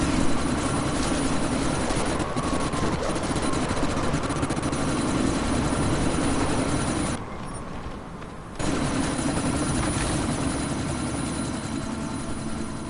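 A helicopter in the video game Deus Ex: Mankind Divided hovers amid a sandstorm, giving a loud continuous rotor and engine roar that drops out briefly near the middle and then returns at full strength.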